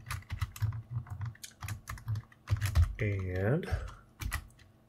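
Typing on the keyboard of a Commodore 8-bit computer, a close run of quick key clicks with brief pauses, heard under a voice.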